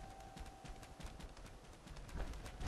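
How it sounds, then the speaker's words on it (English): Faint, rapid running footsteps of ghouls in the video game Fallout 4, a quick irregular patter of several feet, distant and quiet with no speech. "I hear a lot of running."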